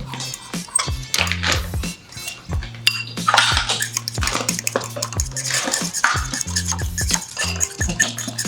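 A fork clinks and scrapes rapidly against a cup while whipping dalgona coffee, busy metallic rattling with a rhythmic low thumping underneath and occasional brief voices.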